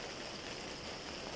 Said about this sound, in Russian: сейчас дождь